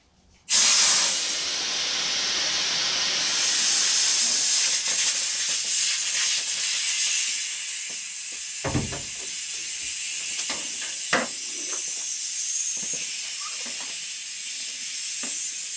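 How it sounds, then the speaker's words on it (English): Compressed air hisses loudly from the drain of an air compressor tank, a strong steady spray that starts abruptly and continues throughout with slight fluctuations and a few faint clicks. "I've got the air compressor in here, which we're going to drain right now."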